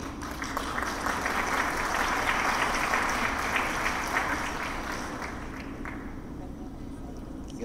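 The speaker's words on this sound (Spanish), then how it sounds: "señor Tarazona, para quien pido un muy cálido aplauso." Warm audience applause at a formal presentation on a national electromobility plan: dense, steady clapping from a full room that holds for several seconds before thinning out toward the end.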